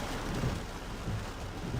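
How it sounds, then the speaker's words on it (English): Wind and light rain of an approaching severe storm in the US, a steady, fairly loud broadband rush of wind with rain hiss and low rumble, no talking. "The wind is picking up and it's headed east. Very light rain."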